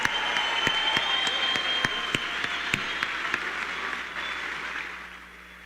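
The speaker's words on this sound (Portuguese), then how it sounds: "Uma salva de palmas para Arthur Duval." An audience claps steadily at a live talk-show event, a dense sustained applause with some sharper individual claps close by, gradually fading toward the end.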